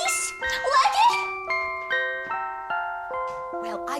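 An ice cream van chime plays a short tinkling melody of bright sustained tones, fairly loud and near, with a burst of cartoonish voices and effects at the start and a second voice briefly at the end.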